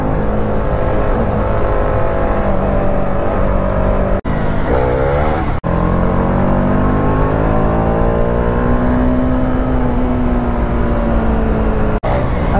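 Motorcycle engine, an Apache RR310 or Duke 390, loud and close during a wheelie, droning with rising and falling revs, plus a couple of brief dropouts and a gear-change dip.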